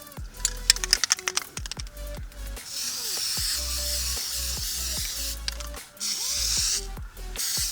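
A spray can puts plastic dip coating onto handmade Killjoy Nanoswarm prop pieces in short, repeated hissing bursts, close to the microphone, with a longer continuous spray near the end.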